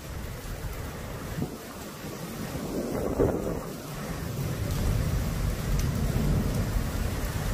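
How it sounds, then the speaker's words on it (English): Prolonged wind from a derecho storm roars without pause, a broad, rumbling, surf-like rush that swells and buffets for several seconds, loud and steady. "That's the thing with these storms too, the wind's prolonged."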